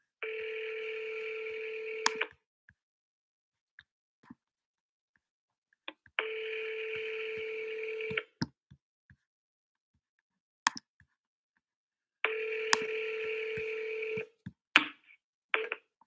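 Outgoing line on a telephone cold call to a property seller: long ringing tones of about two seconds each, repeating three times with silent gaps and scattered soft clicks between them.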